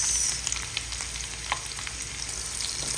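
Garlic and onion sauté in a pan with a continuous crackling sizzle and a few light stirring taps, close and fairly loud with no talking.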